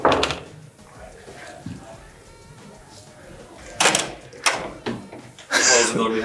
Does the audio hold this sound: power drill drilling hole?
no